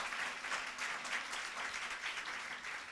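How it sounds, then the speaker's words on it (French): An audience at a French fundraising seminar applauds the unveiling of the Giving Tuesday France logo: dense, steady clapping from a crowd that holds at full strength for the whole stretch, with no voices over it. "Sous vos applaudissements"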